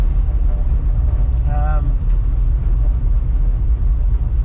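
A 1968 Chrysler VE Valiant driving through a small country town, a loud low engine rumble with rattles and bangs from a poorly insulated cabin, close and continuous, with a person talking briefly.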